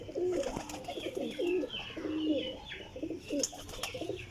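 Several pigeons coo repeatedly in low, rolling phrases, fairly close and overlapping, with faint chirps and background rustle between the calls.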